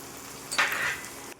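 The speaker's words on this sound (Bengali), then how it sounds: "জিরে গুঁড়ো, ধনিয়া, সব মশলাগুলো কষিয়ে নেব।" Ginger, garlic and ground spices fry in a pan with a short, bright sizzle that flares up suddenly, holds for about half a second, then fades. Close and fairly quiet, with no voices.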